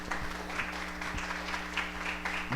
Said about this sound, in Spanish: ¿Quieren alabar a Dios con un aplauso por su misericordia?